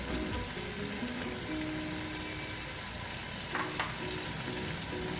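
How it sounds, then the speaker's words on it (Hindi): About half a kilo of potatoes frying with mutton in a pot spiced with cinnamon and black cardamom for Pakistani aloo gosht, a steady soft sizzle with a brief stirring scrape partway through, no talk. "ये ऐड करेंगे और ये भी गोश्त के साथ इसकी भुनाई करेंगे।"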